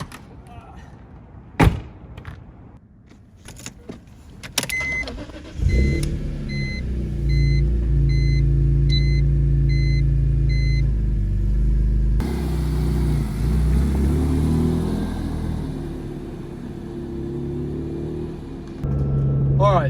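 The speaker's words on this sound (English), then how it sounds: "Alright, so we're going to be driving the car now." A BMW E46 M3 starts up and settles into a deep, steady engine rumble that carries on through the drive, loud and close, with a brief change partway through; someone talks near the start.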